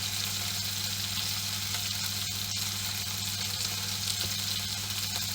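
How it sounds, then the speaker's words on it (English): Meatballs in spicy tomato sauce sizzle steadily in a pan, a continuous close frying hiss with a low hum underneath, heard alone without voices. "As you can hear, nice sizzling"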